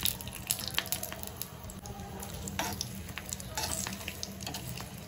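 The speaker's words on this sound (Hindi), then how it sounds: "फुल फ्लेम पे ऑयल गर्म होने के बाद मैं डाल दूंगी दो रेड चिली" Two red chilies sizzling in hot oil over a full flame for a tempering, a dense close crackle with scattered pops and a faint running-water hiss underneath, steady throughout, no talking.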